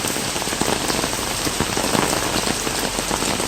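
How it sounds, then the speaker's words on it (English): Very intense rain from the remnants of Hurricane Ida pours down steadily in New York City during a flash flood warning, a dense, constant roar of drops hitting surfaces with no pauses and no voices. "Very intense rain coming down."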